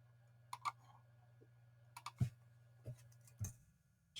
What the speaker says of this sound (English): I'm just typing in federal government receipts